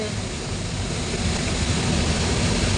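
Strong rushing water pours steadily and loudly at a night-time waterfall spot at Kawasan, a dense continuous roar with no breaks.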